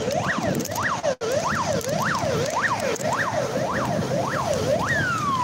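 An ambulance siren from the republic hospital in Yakutsk during severe winter frost wails in steady rising-and-falling cycles, loud and fairly close, over outdoor street noise with no talk.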